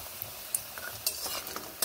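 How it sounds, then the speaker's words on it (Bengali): Lentil dumplings (bori) fry in a pan until browned, with soft sizzling under a spatula scraping and clinking against the metal in quick, irregular strokes, close and fairly quiet. "বড়িগুলোকে একটু লাল করে ভেজে নিতে হবে। এইভাবে এপিট ওপিট লাল করে ভেজে নিচ্ছি।"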